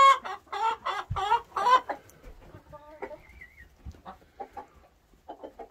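Chickens clucking and squawking close by in a coop, with a burst of loud, rapid clucks at the start and softer, scattered clucks and calls after.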